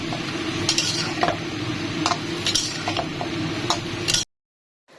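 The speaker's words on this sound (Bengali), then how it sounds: "এটা একটু ভেজে নেব, ভেজে আলু বেগুন দিয়ে এটা রান্না করব" Dried lentil dumplings (masur dal bori) fry in hot oil in a home kitchen, a dense continuous sizzle with occasional clinks of a spoon against the pan, stopping abruptly near the end.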